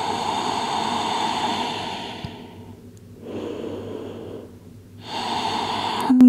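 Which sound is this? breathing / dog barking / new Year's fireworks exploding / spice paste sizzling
breathing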